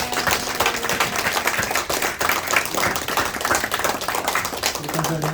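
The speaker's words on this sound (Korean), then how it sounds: "우리 박수로 환영하겠습니다" A church congregation claps in welcome during an anniversary and ordination service, brisk close clapping filling the room, with a voice talking over it.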